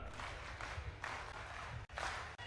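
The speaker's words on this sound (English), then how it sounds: "may we give our national chairman and the president a better round of applause" Delegates at a national party conference in a large hall give the chairman and president a round of applause, broad crowd clapping in surging waves with two sudden brief dropouts.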